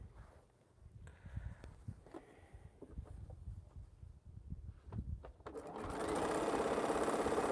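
A sewing machine runs steadily while piecing quilt blocks, starting after several seconds of soft handling noises and then whirring continuously close by.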